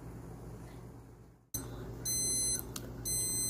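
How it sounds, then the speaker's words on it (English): A digital candy thermometer alarm beeps near its target temperature while maple syrup is boiled for maple stir, with repeated high electronic beeps in bursts over steady background hiss. "it will actually sound an alarm when it's 3 degrees away from your target temperature"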